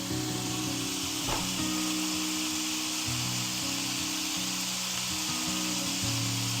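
Chopped onion sizzling in a hot pan for a vintage 1950s beef and cheddar casserole, a loud, steady frying hiss close up with occasional stirring scrapes and a faint background hum.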